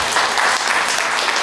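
Loud, dense audience applause fills a talk-show lounge setting, continuous and close throughout the brief stretch.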